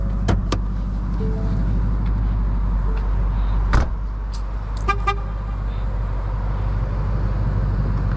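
The hood of a 2020 Ford Mustang Bullitt with a 5.0-liter V8 is opened. A low steady hum sits under a couple of sharp early clicks, a louder latch clunk midway and a few short chime-like tones.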